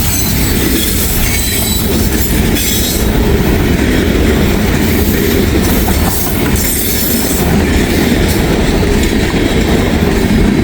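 A heavy CPKC freight train, including a heritage-unit locomotive, rumbles past up close in Kentucky's Bluegrass region, loud and continuous, with clattering wheels and occasional metallic squeals along the rails.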